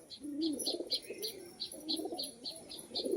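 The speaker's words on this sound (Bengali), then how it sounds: "ফ্যাসা ঝুটি ডাকছে এখানে দাঁড়িয়ে দাঁড়িয়ে" Soft, rhythmic cooing of a crested pigeon repeats close by, with faint high chirps ticking steadily above it.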